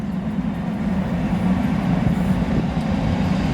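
A South Western Railway class 458 electric train, unit 458 520, passing with a steady low rumble and rolling wheel noise that holds constant and fairly loud throughout, with no voices.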